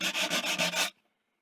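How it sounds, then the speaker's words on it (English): Sandpaper rubs briskly over the edges of painted wooden furniture to distress it, five or six quick close strokes in a steady rhythm, then stopping abruptly into silence. "I'm going to continue just taking off the little edges on the sides, just a little bit of distressing."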